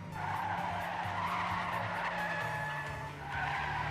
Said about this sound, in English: you want to extend your drift for as long as possible